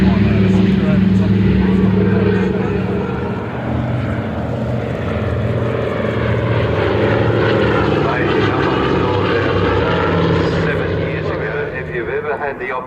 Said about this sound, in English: Had the opportunity to see the DC-3 on floats.